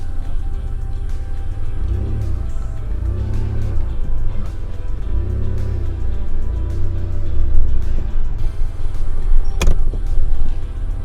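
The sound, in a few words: Toyota 4Runner 3rd gen backing out onto road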